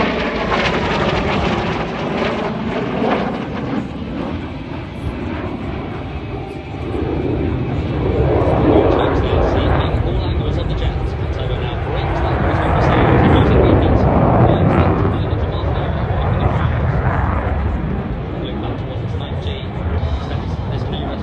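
A Eurofighter Typhoon FGR4 jet flies an airshow display at RIAT Fairford, its loud roaring engines swelling and fading as it passes the crowd, with a commentator talking over the noise throughout.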